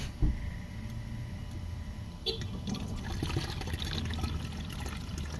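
Stove-heated water is poured into a container already holding some room-temperature water inside a van, a steady trickling pour under faint background hum with a few soft knocks.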